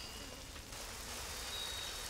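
Soft, steady rain hiss from the Rain of Purity miracle in the game Godus. It stays faint and even throughout, with no voices.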